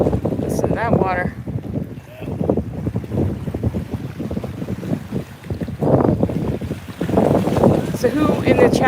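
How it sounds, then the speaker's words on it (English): Water rushing past a boat in the busy Port of Miami channel, a loud, continuous wash and splash with heavy wind buffeting the microphone and people talking over it. "Listen to that water."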